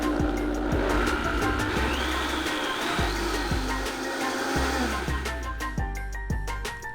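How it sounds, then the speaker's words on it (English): A blender whirs loudly and continuously as it purees a sofrito of cooked onions and garlic, the motor pitch shifting and dipping in bursts as the mixture churns, close up with no talking. "all I'm gonna do simply is just, blend it away"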